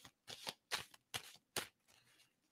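Tarot cards are shuffled by hand in quick, crisp riffling bursts, about five distinct rustling flurries separated by short pauses, close and fairly quiet with no talking.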